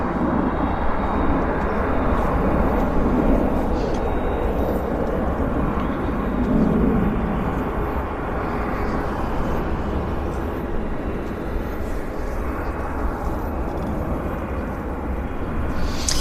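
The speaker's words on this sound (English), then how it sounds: "So we've got another aircraft approaching here on runway 208 right" Airplane approaching the runway at Vancouver airport, a steady broad engine roar heard from a distance that holds throughout without a clear peak, with no talking.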